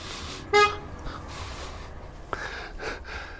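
A passing local police car gives a short, sharp toot of its horn nearby, followed by faint breathy noises and light road ambience.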